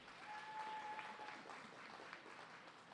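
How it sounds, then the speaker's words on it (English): A banquet audience applauds with dense, continuous clapping that stays faint and distant throughout. "Another round of applause for Derek"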